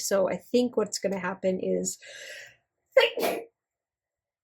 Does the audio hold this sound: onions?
no